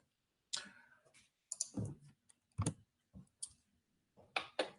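Mouse clicks on a website button, a few sharp, close clicks spaced irregularly against near silence.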